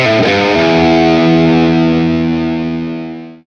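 An electric guitar with humbucker pickups played through distortion rings out as a loud, thick chord that sustains and slowly fades to silence.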